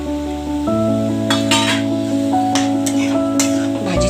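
Spoon stirring a mixed leafy vegetable bhaji of cowpea, bell pepper and dill leaves in a pan, with soft scraping strokes and occasional clinks over a steady low hum, close and continuous.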